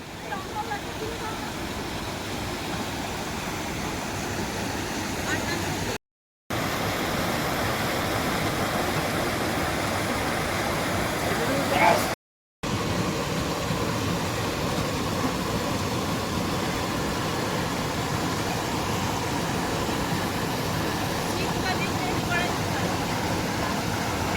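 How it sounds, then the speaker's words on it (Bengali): Mountain stream water on the trek to Dodital, where drinking water is being filled: a loud, continuous, close rushing roar that holds steady, cut by two very short gaps. "পানীয় জল ভরা চলছে।"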